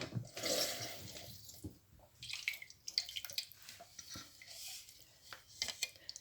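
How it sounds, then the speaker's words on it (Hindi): Water poured over red chili and coriander powder in a cooking pot for Lahori chicken chole, a splashy trickle with scattered drips rising and falling for several seconds. "थोड़ा सा पानी ऐड कर देंगे।"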